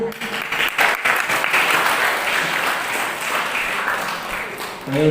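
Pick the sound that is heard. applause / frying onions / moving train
applause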